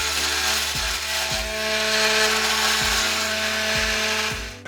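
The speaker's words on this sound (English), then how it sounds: "This multi-tool, I've just gone to the service department and changed over this little blade for this much bigger blade." A powered oscillating multi-tool fitted with a large blade buzzes steadily as it cuts into a glued camper top box, its drone periodically dipping with short low thumps as the blade bites and shifts, close and loud with no talking.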